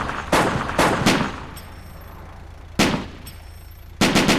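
Bursts of simulated rifle and machine-gun fire in ArmA 2 Operation Arrowhead, with several sharp broadband volleys of shots spaced out over a low background rumble, some loud and close.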